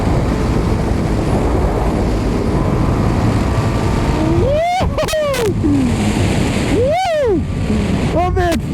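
A 2017 BMW F800R motorcycle engine pulls hard under strong wind rush, with sharp rising and falling revs as gears shift, loud and close, while a rider exclaims over it.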